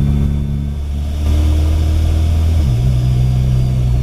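A Mitsubishi Evo X with a newly fitted turbo idles close by, then its engine note rises and shifts pitch as it pulls away. A steady tone runs above the engine throughout.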